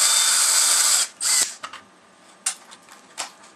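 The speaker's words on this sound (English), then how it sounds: "Cut out the ejection plate and drill holes in the end of it." A power drill bores holes in the end of a water rocket's ejection plate, whining loudly and steadily for about a second, then a second short burst follows, with light handling clicks and taps afterward.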